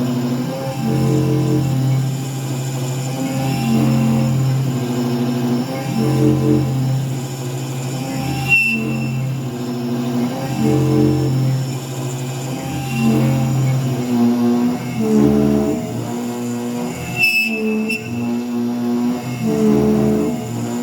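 An MR-1 CNC mill cuts a steel part under heavy load, giving a loud sustained whine with shifting tonal pitches and periodic changes as the tool engages and moves, steady and close throughout.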